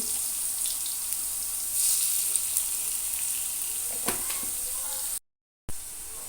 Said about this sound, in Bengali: গ্যাসের ফ্লেমটা ফুল করে দিয়েছি আলুটা একদম লাল করে ভাজতে হবে